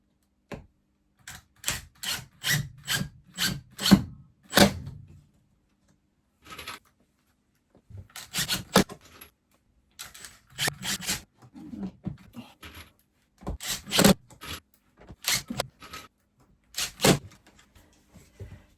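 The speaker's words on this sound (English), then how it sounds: "So now I can go ahead and screw this into the wall." Screws going into a wall to fix a mounting plate inside a Toyota Coaster, a series of short close clicking, rattling driver bursts separated by silent pauses, in an otherwise quiet space.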